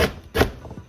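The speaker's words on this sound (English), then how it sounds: "we could cut the ginger, keep the skin on" Fresh ginger cut with a knife on a board: two crisp close chops about a third of a second apart, then softer scraping taps, with no voices.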